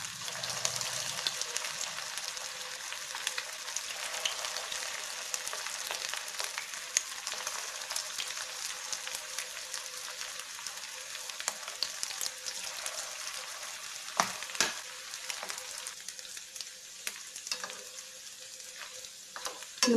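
Sweet corn balls deep frying in hot oil, a steady close sizzle and crackle with occasional stirring clinks, continuous throughout with no talk.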